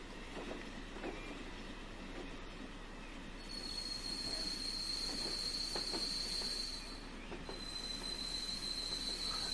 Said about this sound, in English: that's what it sounds like, screeching around a corner, because that is quite tight